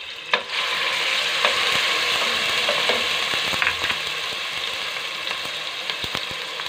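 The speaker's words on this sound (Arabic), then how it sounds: "نضيف البصله، واحد البصيله اللي حكيناها في الحكاكه الغليظه" Grated onion fries in a pan for pasta with tomato sauce, a continuous loud sizzle broken by scattered clicks and scrapes of stirring.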